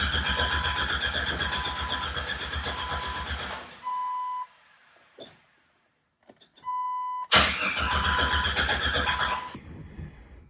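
A Jeep Wrangler TJ with a fuel problem cranks without catching: two long bursts of loud, rhythmic starter churning, separated by a quiet pause that holds a short electronic chime tone.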